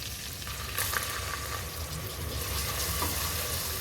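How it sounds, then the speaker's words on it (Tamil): Finely chopped onions and garlic sautéing in oil in a pressure cooker, a continuous close sizzle with occasional crackles and stirring scrapes, no voices. "வெங்காயம் நல்லா வதக்கி விட்டுக்கிட்டாச்சுங்க."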